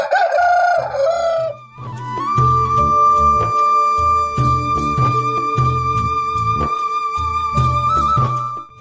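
A fighting rooster crows loudly and close by at a gamecock farm in Hyderabad for about a second, then rhythmic music with a steady beat takes over.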